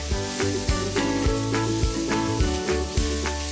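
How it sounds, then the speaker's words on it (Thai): Pork belly sizzles and fries steadily in hot oil in a pan, with a constant close hiss and repeated sharp clacks of a utensil stirring against the pan. "ตั้งกระทะให้ร้อน ใส่น้ำมันลงไป ใส่หมูสามชั้นที่เตรียมไว้ลงไปผัดพอสุก"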